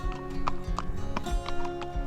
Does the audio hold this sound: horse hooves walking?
yes